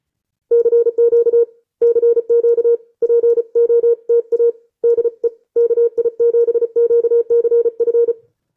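High-speed Morse code sent on ham radio while operating Parks on the Air, a single clean tone keyed in rapid dits and dahs, loud and steady in bursts with short pauses between words and no voice.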